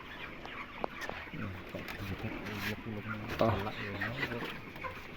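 Chickens cluck on a poultry farm being readied for harvest on an overcast day, a steady run of close, repeated clucks mixed with farm noise while someone talks over them.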